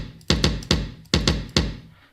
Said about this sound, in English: I have a kick that I want to use